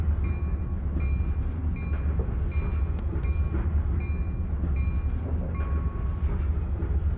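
Acela Express train rolling along in a train simulator game, a steady low rumble of wheels and motor with faint intermittent clicks and tones, continuous and moderately loud with no voices.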